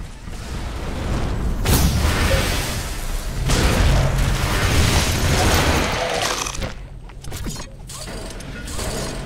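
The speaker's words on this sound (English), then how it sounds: "Base is under attack. A building has been destroyed." Explosions tearing through buildings during a base attack in the video game The Riftbreaker: loud, continuous rumbling blasts and mechanical clatter layered over several seconds, easing into sharper scattered impacts toward the end.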